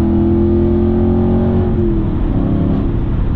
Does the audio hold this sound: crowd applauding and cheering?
no